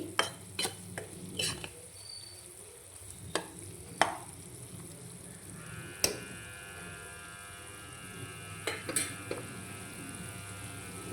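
Potatoes tip into a hot pan for a home-style potato curry and get stirred, with a steady sizzle under sharp scraping taps of a spoon against the pan, loud and close, no talking.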